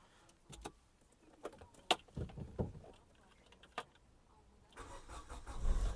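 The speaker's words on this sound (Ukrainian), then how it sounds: "Двигун запускається чудово." A Hyundai Tucson 2.0 engine cranks and starts after a few clicks and clunks, then settles into a steady idle.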